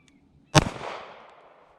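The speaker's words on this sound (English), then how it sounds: "we're about 10 yards away from the target, and let's just see how the dot is set from the factory here. Let's give it a fire." A single loud Sig Sauer P320 RXP pistol shot fired at an outdoor range from about 10 yards, a sharp close crack followed by a decaying echo.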